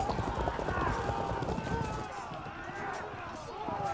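Galloping hooves of horse archers in the historical strategy game Field of Glory 2, as a steady dense clatter of many horses running, with a faint whinny over a continuous battle din.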